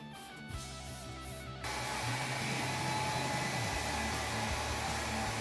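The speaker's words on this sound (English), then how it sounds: "Gotta get the Vidal Sassoon 1875 dryer. Top of the market for shop drying projects." A Vidal Sassoon 1875 hair dryer switches on after a brief lower whir and runs with a steady, loud blowing roar, drying a freshly clear-coated patina sign piece in a workshop.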